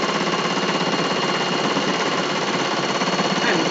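Sewing machine running steadily while stitching fleece for a scarf or gaiter, a loud, continuous mechanical buzz without breaks and no talking.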